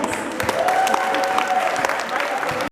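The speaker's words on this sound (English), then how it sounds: "Let's give the audience a round of applause." Audience applause fills a school holiday concert hall, loud, even clapping from many hands with a faint sustained tone beneath it, cutting off abruptly at the end.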